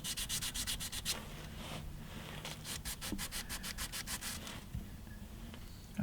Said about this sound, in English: So the first thing we'll do is get some 600 grit and flat down